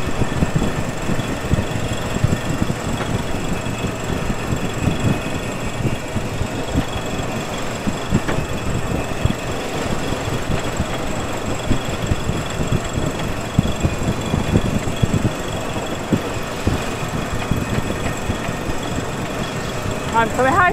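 An inboard engine on a sailboat runs under throttle on a river delta, a steady close mechanical chugging and vibration, with people talking over it now and then.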